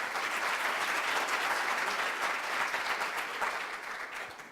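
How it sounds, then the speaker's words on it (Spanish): Sustained applause for panelists at a business panel event, many hands clapping together in a dense, steady wash that gradually tapers off slightly toward the end. "quiero solicitar un aplauso para nuestros panelistas"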